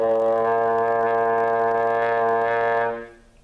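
A trombone sustains one even, centered tone for about three seconds, full and steady in volume, before stopping abruptly and leaving a faint tail.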